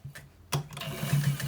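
Sewing machine running a short stitch along the seam of a white trouser, a steady low motor hum starting after a brief pause, close and moderately loud, with no talking.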